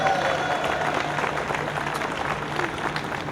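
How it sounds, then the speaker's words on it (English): An outdoor crowd at a plaza ribbon-cutting ceremony cheers and applauds for athletic director Ray Tanner, producing a steady wash of clapping and voices at moderate distance that holds for a few seconds. "Let's give Ray Tanner a cheer"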